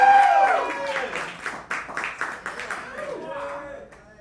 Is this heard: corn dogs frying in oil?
no